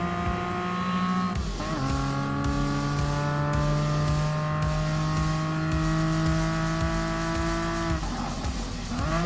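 A TVR Tuscan Speed 6 races in Gran Turismo Sport, its straight-six engine screaming through upshifts and rising revs, with tire squeal on the corners, loud and continuous, with no talk.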